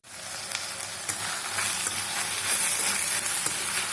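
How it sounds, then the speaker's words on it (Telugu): Ridge gourd mixture frying in a pan for chutney, a continuous close sizzle with occasional crackles and stirring scrapes throughout. "ఇవి మొత్తం కలుపుకొని ఒక నిమిషం వేగనిద్దాం."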